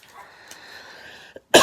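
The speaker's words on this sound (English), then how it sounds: "Sorry, guys, about the coughing." A single sharp, loud cough bursts out at the very end, right after a brief hush, with a faint steady hum underneath before it.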